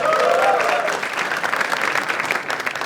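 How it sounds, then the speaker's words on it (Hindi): Sustained crowd applause fills an Indian comedy show studio, loud dense clapping with some whoops early on, continuing evenly for nearly three seconds. "एक बार जोरदार ताली for Jaspreet Singh also."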